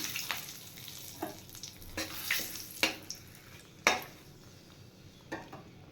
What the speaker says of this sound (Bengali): এবার আমি তেজপাতা আর শুকনো লঙ্কা দিয়ে দিলাম